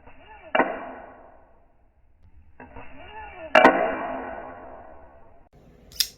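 A titanium and carbon fiber knife with a D2 blade flicks open in slow motion, giving two drawn-out, echoing metallic snaps a few seconds apart, quiet and heard alone.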